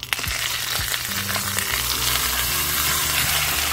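Salmon fillet frying skin-side down in a pan with a tablespoon of bacon drippings, giving a steady, close, loud sizzle with low crackling hum that holds evenly throughout, no talking.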